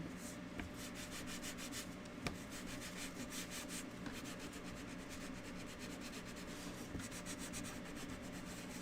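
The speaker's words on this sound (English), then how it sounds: "But you just sand them right on here." Small wooden shelf sitter pieces are sanded by hand, producing a continuous close rasping rub with a quick back-and-forth rhythm, steady and moderately quiet throughout.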